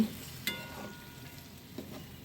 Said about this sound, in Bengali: এখন আমি এই মশলাগুলো দিয়ে ভালো করে নেড়ে চেড়ে কষিয়ে নেব